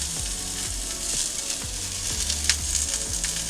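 Zucchini squash searing in a hot pan for a rice bowl, a loud, steady sizzle with occasional stirring scrapes and clatter, no voices.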